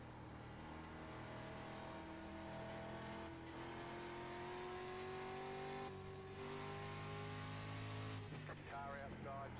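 Street stock race car engines in an iRacing simulation at Thompson International Speedway, a sustained droning engine note with rising and falling pitch as the car accelerates, other cars' engines layered beneath, under a speaking voice.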